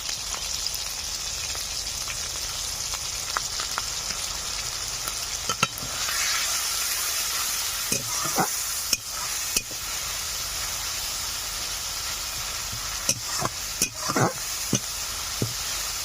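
Spice paste with tomato, ginger and garlic sizzling steadily in hot oil for a katla fish kalia, with scattered sharp scrapes and taps of a spatula stirring against the pan.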